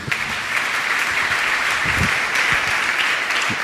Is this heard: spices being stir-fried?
no